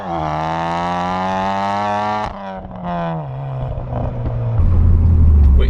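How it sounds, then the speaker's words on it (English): Ford Focus ST3 with a screamer back box exhaust, about 300 brake horsepower, rising into a loud deep turbo scream that holds a sustained tone, drops away briefly, then builds again into a heavy low roar. "when you do start going through the turbo, you get a sort of deep scream from the car"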